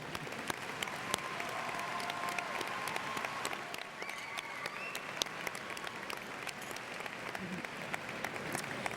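Audience applause at a 2018 high school graduation ceremony, steady sustained clapping from a large crowd throughout, with faint voices murmuring underneath.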